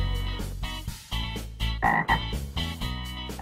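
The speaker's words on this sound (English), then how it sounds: "Green frog." A green frog croaks repeatedly, close and loud, in short, throaty pulses with a bright, higher-pitched call near the middle.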